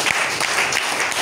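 Church congregation applauding in a brief, loud burst of dense clapping from a crowd close by.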